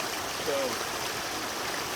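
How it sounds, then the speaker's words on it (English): Small Ozark hillside spring pouring out at about a gallon a second, a steady close rush and babble of water, with a brief spoken word over it. "A gallon a second is flowing out of this on this hillside here."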